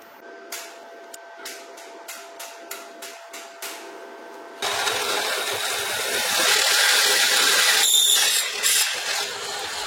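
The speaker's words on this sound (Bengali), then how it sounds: "এবার এটাকে আমি সামনে একটা নির্দিষ্ট অ্যাঙ্গেলে ওয়েল্ডিং করে দিচ্ছি।" Welding a motor mount, an electric scooter half motor, onto a mini solar e-rickshaw frame: a run of sharp regular tapping clicks, then a sudden loud continuous crackling hiss of the arc that holds for several seconds, close and alone.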